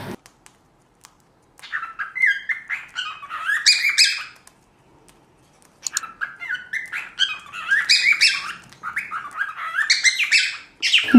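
Pet lovebirds chirping loudly and close in rapid bursts of high, squeaky tweets, two busy stretches separated by a short quiet pause, with no talk.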